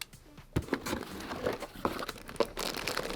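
Packaging for a Goldshell Doge Mini ASIC miner is crinkled and torn open, with a few sharp rustles and crackling tears close by and no talking.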